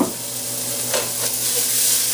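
Onions sizzle in a hot pot that already holds seared oxtail, a steady close frying hiss with faint stirring, no talking.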